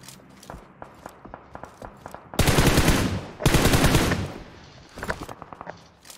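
Bursts of rapid automatic gunfire in PUBG Mobile, loud and close, with scattered single shots and footstep-like clicks between the volleys.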